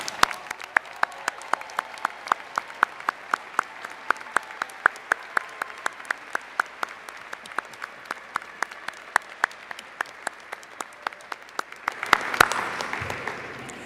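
A commencement ceremony crowd at Winthrop University applauds for graduates' families with steady, rhythmic distinct claps over a soft wash, swelling briefly louder near the end.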